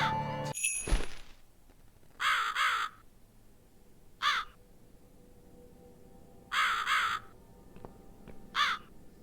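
Crow caws in the video game The Cat Lady: four harsh, raspy bursts spaced a couple of seconds apart, moderately loud over a quiet ambient game background, following a brief sharp sound at the start.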